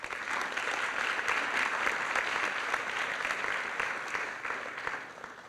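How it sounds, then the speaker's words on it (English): A high school ceremony audience claps in a sustained round of applause, many hands producing a dense, even patter that stays steady for several seconds and then tapers slightly. "so I think we need a round of applause for that"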